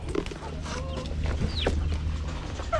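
Rhode Island Red chickens clucking steadily inside a coop, close and busy, with short clucks and a rising squawk over low background rumble.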